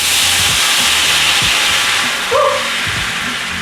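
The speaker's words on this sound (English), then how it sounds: "Very hot steam," Chicken broth poured into a hot pan after garlic hisses and steams loudly, a broad continuous sizzle with faint scraping and clinks underneath, and a brief squeak or whistle partway through.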